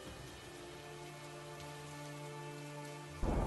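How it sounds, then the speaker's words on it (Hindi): Steady rain pours down in a continuous hiss over a low, sustained tonal hum, swelling to a louder burst at the very end. "बारिश पहले के मुकाबले बहुत तेज हो चुकी थी।"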